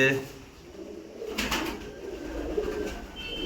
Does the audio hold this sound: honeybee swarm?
no